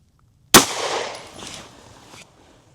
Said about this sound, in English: we're just going to shoot this into the gel block